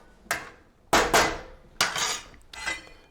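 A spoon strikes and scrapes a pot of rice pilaf brought to a boil, four sharp metallic clanks spaced across a few seconds, close and loud with no voices.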